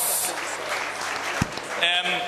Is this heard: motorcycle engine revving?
no